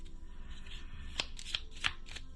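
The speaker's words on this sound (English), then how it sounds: "So let's just randomly give these a shuffle." A deck of item cards from a board game being shuffled, a quick run of crisp riffling snaps and soft slides close by, with no talk.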